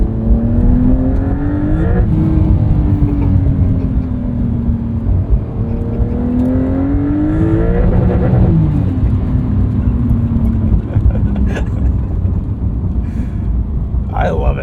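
A 2025 Porsche 911 Carrera S engine revs and pulls hard from inside the cabin, pitch climbing and dropping through gear changes, loud and continuous.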